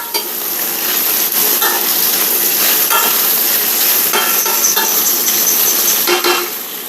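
Butter sizzles steadily in a hot pan over medium-high heat as browned chicken bits are stirred through it, with a continuous close frying hiss broken by scraping and clinking of a utensil against the pan.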